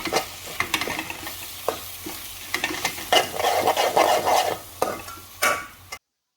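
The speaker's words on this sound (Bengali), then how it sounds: "এখন আমি এটাকে নাড়া দেব" Dried loitta fish bharta stirred in a pan, with repeated close scraping strokes of a spatula and a soft sizzle underneath, and no talking.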